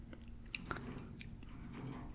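A pet bird chews and pecks at a cuttlebone close by, giving soft, irregular crunching and scraping clicks over a steady low hum.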